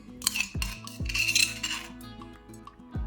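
Coarse spice paste for masala buttermilk scraped off a grinding surface onto a plate, with repeated clinking scrapes and metallic knocks at close range, no talk.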